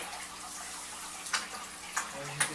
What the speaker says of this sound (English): wave maker is down to the level of sucking air